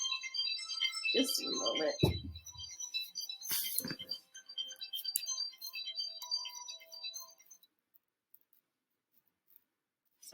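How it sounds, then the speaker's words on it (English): A mobile phone ringtone goes off during a talk on tax deed auctions, a bright repeating melodic tone that plays for several seconds under a few short spoken words, with handling clicks, then stops and leaves near silence. "And I thought I had turned my phone off."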